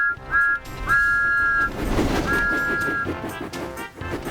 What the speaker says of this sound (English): Everywhere Thomas went, he blew his whistle loudly.